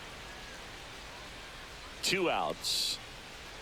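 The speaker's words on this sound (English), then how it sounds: "the field's not going to be able to hold up if the rain gets any worse than this" Steady rain falls on the field in the MLB The Show 25 baseball video game, a soft, even hiss throughout, while a commentator speaks briefly over it near the end.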